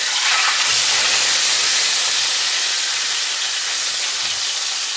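Barramundi fillet cooking in a hot pan, a steady loud hissing sizzle that stays even throughout with no talking.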